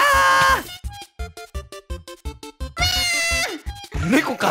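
A cat meows repeatedly in short, clear calls, one long meow at the start and another near the end with quicker chirps between, with voices around it, in a Minecraft gaming session.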